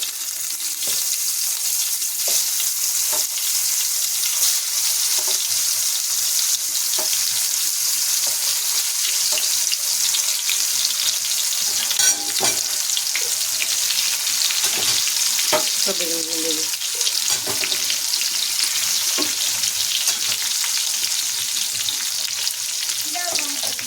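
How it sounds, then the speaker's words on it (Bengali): Eggplant slices fry in a pan over low gas with a constant close, bright sizzle and crackle, scattered soft clinks and scraping throughout, and no talk. "গ্যাসটা এবার আমি ধীরে দেবো আর বেগুনগুলো ছেড়ে দিচ্ছি"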